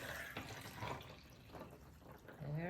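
Home-made peppermint tea poured over ice into a tall glass, a soft continuous liquid pour with trickling and faint clinks, running steadily throughout at low level.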